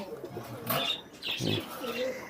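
Pakistani and Indian fancy pigeons, including a pair of Teri pigeons, coo in soft repeated throaty phrases close by in a loft, with a few faint chirps between the calls.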